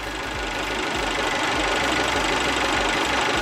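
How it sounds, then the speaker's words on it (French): A Fiat Grande Punto 1.4 T-Jet engine idles with its lambda sensor removed, a steady close mechanical hum with a faint ticking knock running evenly throughout, no voices. "sans la sonde, ça tourne malgré tout rond."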